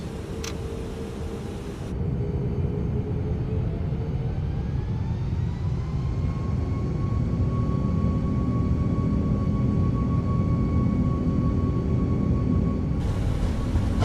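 A four-engine airliner rolls down the runway on its takeoff run, a loud steady engine roar with a rising whine that builds and holds throughout, no voices over it.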